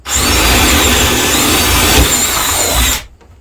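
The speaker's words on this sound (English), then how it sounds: "If I drill the hole right there" A power drill whines loudly and steadily as it bores a hole through wood for about three seconds, then cuts off.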